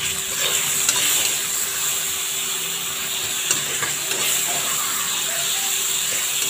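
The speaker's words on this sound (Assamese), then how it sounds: "এতিয়া মই 1 মিনিটমান এনেকৈ ভাজি ল'ম" Ginger, garlic, chili and cumin paste frying in a small amount of oil for a kosu (taro leaf) dish, a steady close hiss and crackle with faint sputters running continuously throughout.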